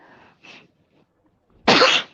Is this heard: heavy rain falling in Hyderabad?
no